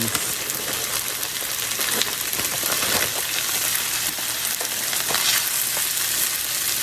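Peas tossed into a hot skillet fry with a loud, continuous crackling sizzle, close up, with faint stirring scrapes and no voices.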